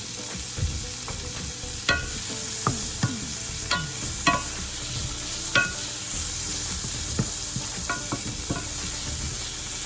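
A wooden spoon stirs salmon pasta in a pot, scraping and clacking in irregular strokes over a steady sizzle, close and clear with no talking.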